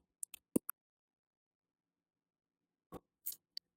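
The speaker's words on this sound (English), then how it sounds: "we cut the yarn" Scissors snipping crochet yarn, a few small close clicks and a short snip, then after a quiet pause two or three more quick scissor sounds, faint in a silent room.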